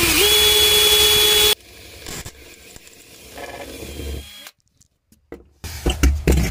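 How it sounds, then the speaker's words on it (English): A power drill spins up with a rising whine as a 3 millimeter bit bores out rivets on a Sea-Doo jet ski hood bracket, followed by scraping, clicks and handling noises broken by brief silences. "I'm using a 3 millimeter drill bit and we'll proceed to drill out the rivets"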